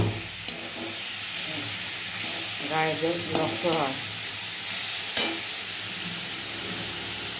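Bhetki fish frying in a pan, a steady broad sizzle running throughout with a brief voice speaking partway through.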